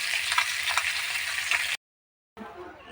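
Bhetki fish pieces sputter in frying oil, a close, bright sizzle with small pops that stops abruptly, leaving a short gap of silence before the sizzle resumes.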